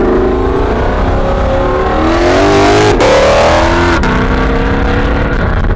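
A Corvette C8 with the track pack roars loudly nearby, its engine note rising and climbing steadily throughout, with brief shifts in pitch along the way.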